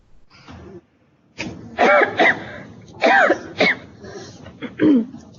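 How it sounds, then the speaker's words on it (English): Several harsh, throaty bursts in a row, coughing or throat clearing, loud and close, with a quieter murmur before them. "Coughing does not count."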